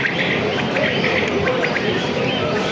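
Short chirps and tweets from a caged quail repeat over a busy, noisy background of chatter and commotion at a bird market.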